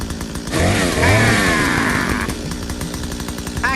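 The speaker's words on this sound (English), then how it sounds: "Ooh, chainsaw." A chainsaw roars loudly at close range, its engine revving up hard and holding a high, rasping whine before dropping back to a rougher, chugging idle.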